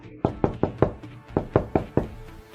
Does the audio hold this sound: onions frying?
no